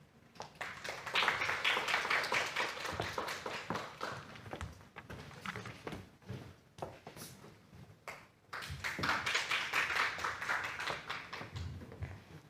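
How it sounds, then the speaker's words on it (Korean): An audience at a senior citizens' assembly in Chuncheon applauds, a dense burst of many hands clapping that swells, dips briefly in the middle, then rises again before fading. "큰 박수 부탁드립니다."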